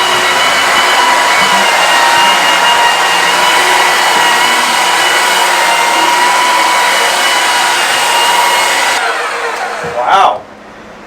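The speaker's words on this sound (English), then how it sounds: "Do you know what that tool is? A belt sander." A belt sander runs at full speed during a boat dinette seating rebuild, a loud steady whining roar that holds for about nine seconds, then winds down with a brief surge before falling quiet.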